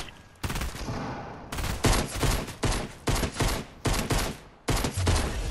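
Gunfire in a shooter video game, loud close bursts of rapid shots coming in a string of separate volleys with short gaps between them.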